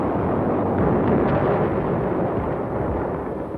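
Sustained rumbling bombardment explosions from wartime naval shelling of coastal cities, a dense, loud continuous roar of blasts with no clear gaps between them.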